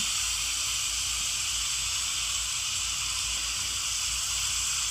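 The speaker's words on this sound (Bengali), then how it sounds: "কড়াইটা গরম হয়ে গেছে মাছগুলো এবার ছেড়ে দেবো এক এক করে" Small fish fry in plenty of hot oil in a wok, giving a steady, loud, unbroken hiss and sizzle that carries on throughout with no talk.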